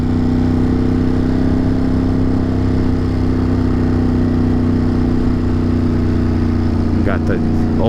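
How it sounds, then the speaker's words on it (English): An older Ducati motorcycle engine idles close by, a loud, steady low rumble with an even throbbing pulse, and a voice is heard briefly near the end. "Got the old Ducati."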